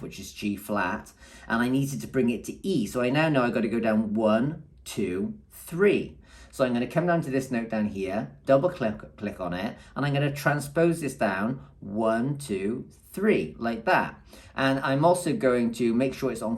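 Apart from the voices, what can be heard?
None of the usual background noises is heard.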